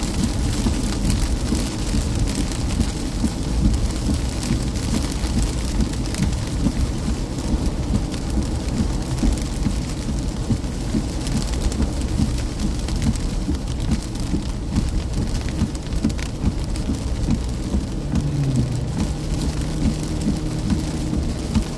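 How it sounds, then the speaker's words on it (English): Heavy rain pours steadily during an Iowa thunderstorm, with low thunder rumbling beneath the constant downpour throughout. "Man, that's a great looking storm."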